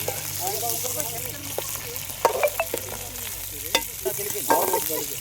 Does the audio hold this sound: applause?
no